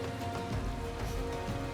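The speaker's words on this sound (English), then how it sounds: "appropriately it's raining in the game right now" Rain falls steadily in Final Fantasy 14, a soft continuous patter on surfaces with no voices.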